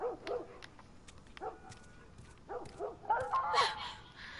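Dog in the video game The Last of Us on PS4, a few faint, distant yips and whimpering barks in short bursts over a low background, ending in a higher whining cry.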